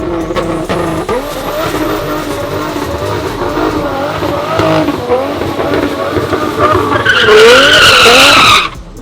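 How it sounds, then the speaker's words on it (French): A loud twin-turbo V12 car engine revs hard up close, turbos spooling, pitch rising and falling, ending in a sharp high-pitched squeal before cutting off. "on entend les turbos spoolés, tellement loud, V12, SCI, Twin Turbos"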